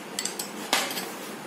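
A spoon clinks against a bowl while mixing flour dough with chopped onion and oil for koki, a few short scraping taps followed by a brighter scrape, close and alone.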